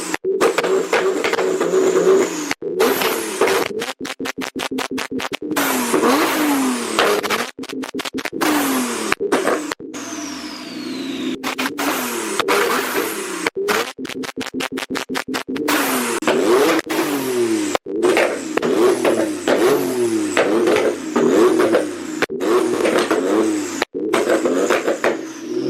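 Nissan 370Z with a turbo conversion and anti-lag revving hard in repeated bursts, loud and close, with rapid stuttering pops and crackles between rising and falling engine pulls.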